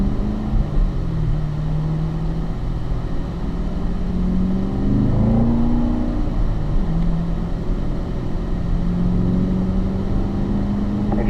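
A race car runs a conservative lap on a track, its engine drone rising and falling steadily through gear changes, heard from on board, loud and continuous without voices.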